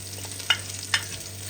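Ginger fries in a pan for laing, a dish of taro leaves in coconut milk, with a faint sizzle and two quick scraping stirs about half a second apart.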